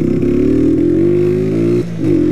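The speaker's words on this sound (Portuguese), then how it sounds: "a moto tá falhando" A Honda CG 125 Fan motorcycle engine runs close by and loud with a sputtering, uneven drone, cutting out briefly near the end before picking back up as it misfires.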